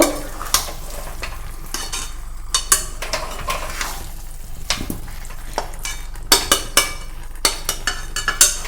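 Potatoes are stirred into spiced chicken curry in a pan, a close, steady sizzle broken by repeated sharp scrapes and clacks of the utensil against the metal, with no talking.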